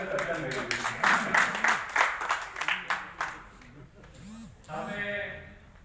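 Crowd at a gathering of a minority journalists' union breaks into a burst of clapping that fades after a few seconds, with voices and a sustained tone carrying on underneath.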